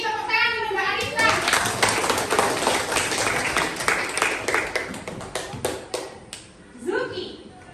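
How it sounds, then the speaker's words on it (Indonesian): A classroom audience of students claps for a student who has just answered, a near, dense patter of many hands that thins out before a voice speaks briefly at the end. "Tepuk tangan untuk Mbak Arifta."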